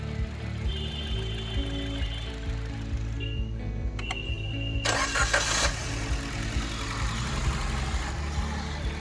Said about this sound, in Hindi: का इंजन स्टार्ट हो गया, स्टार्टिंग बिल्कुल नॉर्मल है, कोई लॉन्ग क्रैंकिंग नहीं है